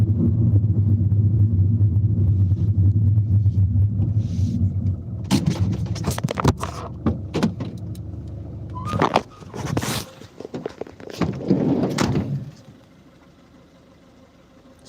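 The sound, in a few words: wheelchair van driving by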